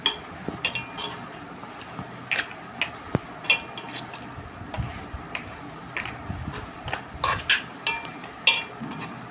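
Curry ingredients for an ivy gourd pulusu being mixed in a pot, with rhythmic clinks and scrapes of a spoon against the metal, close and fairly loud, and no talk.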